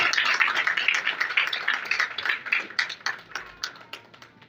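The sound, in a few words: applause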